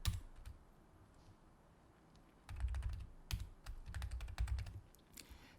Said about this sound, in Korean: 제가 다음 칸 넘어갈 때 탭키를 누르고 있습니다